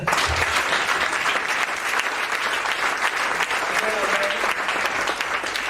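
A church congregation claps together during a worship service. The applause is loud, dense and sustained for several seconds, with a few voices rising faintly within it.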